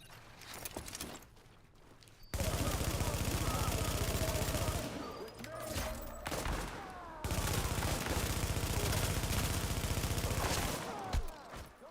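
Sustained automatic gunfire in The Division, long dense bursts that start and stop in loud stretches with single shots in the gaps, a voice talking over the shooting.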